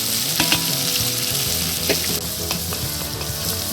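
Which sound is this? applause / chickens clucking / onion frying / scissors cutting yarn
onion frying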